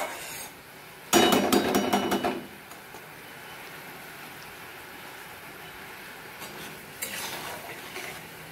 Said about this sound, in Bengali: এটা এখন ভালো করে কষি।